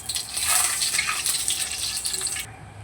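Five-spice seeds hitting hot oil in a kadai, a loud bright hissing sizzle that fills the space for about two and a half seconds and then cuts off abruptly.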